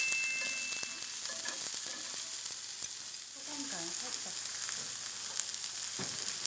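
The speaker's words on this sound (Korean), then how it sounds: "오늘은 볶는데 살짝만 볶을 거예요" Bean sprouts stir-fry lightly in a hot pan with a soft, steady sizzle, broken by occasional clicks and scrapes of stirring.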